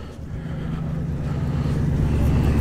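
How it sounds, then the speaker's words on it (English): A slightly modified Vauxhall PA Velox classic car engine starts and settles into a steady, loud, low rumble close by, with no talk over it. "There's that slightly modified PA Velox firing up."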